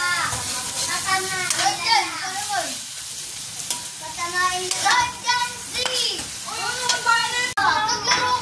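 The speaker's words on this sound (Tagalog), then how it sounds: "Maingay ang mga bata." Children chatter and play noisily near a stove while sautéed corn with mushrooms fries and sizzles in a pan. Their lively voices dominate over the cooking sounds.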